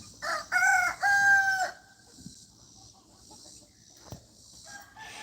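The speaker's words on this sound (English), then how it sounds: "Maybe one of them will crow here in just a minute." A rooster crows loudly once, a drawn-out cock-a-doodle-doo, followed by quieter clucks and rustling in a barnyard.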